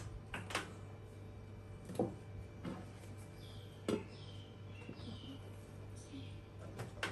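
Cheese crisping in a microwave gives scattered soft pops and small crackles at irregular intervals over a steady low appliance hum, fairly quiet and close, with no talking.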